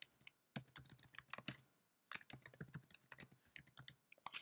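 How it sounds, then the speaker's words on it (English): An email address is typed on a computer keyboard in two close, clicky bursts of rapid keystrokes with a short pause between them. "Here, type in your full email address"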